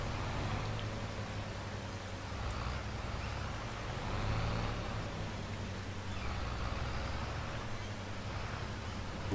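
A truck in Farming Simulator 22 rumbles steadily while parking, with a low engine drone, air-brake hiss and faint reversing-style tones throughout, moderately near and without talk.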